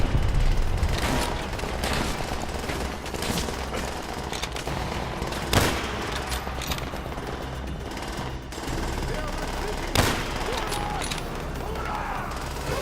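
Dense, continuous gunfire and rapid machine-gun bursts in Call of Duty: World at War fill a chaotic battle, with occasional heavier booms punching through and shouted voices mixed into the din.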